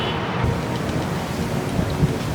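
Strong wind in Manhattan, New York City, roars in a steady, broadband rush, buffeting the microphone with a continuous low rumble and no voices.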